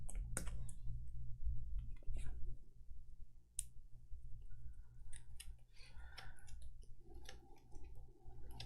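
Playing cards for the Gloomhaven: Jaws of the Lion board game being shuffled at a table, a series of soft, close clicks and riffling snaps that come and go over several seconds with little talk.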